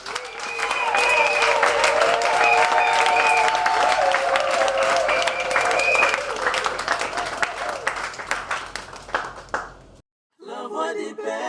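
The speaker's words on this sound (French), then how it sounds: "Nous saluons ce bon cœur, nous saluons ce dévouement avec des applaudissements" A crowd at a gathering honoring a woman's devotion breaks into sustained, dense applause lasting several seconds, then thins out into scattered claps before a brief silence and the start of a voice.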